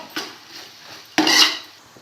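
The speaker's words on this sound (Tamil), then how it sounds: "எல்லாம் கிண்டி விடுவோம்" Chicken biryani rice being stirred in a pot, two distinct scraping strokes of a spoon against the metal with a quiet pause between them, close and clear.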